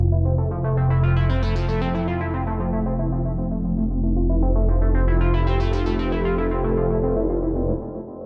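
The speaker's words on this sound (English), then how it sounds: "here I made a sound using some analog sampled waveforms to get a nice warm, rich sound out of Vital" A warm, rich Vital software synthesizer patch built from analog-sampled wavetables holds a thick sustained chord for about eight seconds, its brightness swelling and falling twice like a slow filter sweep, loud and without speech.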